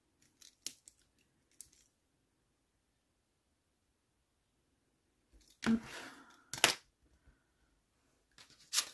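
Scissors snip paper for a scrapbooking card: a few light cuts early, then after a quiet pause a louder burst of close snips, with another cut at the very end.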